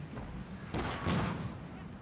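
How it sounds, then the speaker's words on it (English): Booming artillery cannon fire from 12-pounder guns in the Napoleonic battle game Field Command Napoleon, several deep blasts rolling together amid continuous battle noise, moderately loud with a heavier thump near the middle. "French counter battery actually doing a number on my Guard 12-pounders there"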